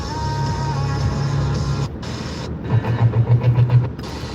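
Inside a moving car, a steady engine and road drone fills the cabin, then drops away briefly before a run of quick rhythmic thumps over the lower rumble, with no talking.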